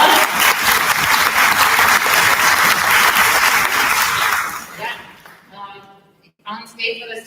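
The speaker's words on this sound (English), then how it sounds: "Let's give Alan a round of applause." A concert audience breaks into loud, sustained applause that fills most of the stretch, then thins out and gives way to a voice speaking near the end.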